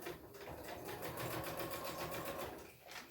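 Sewing machine stitching down a fabric pocket, running in a steady, fast mechanical whir of needle strokes for nearly the whole stretch, close and fairly quiet, with a brief slowdown near the end.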